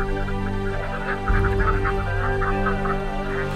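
A duck farm housing about 270 laying ducks in two-tier pens gives a dense chorus of overlapping honking quacks, which swells louder partway through and continues without talk.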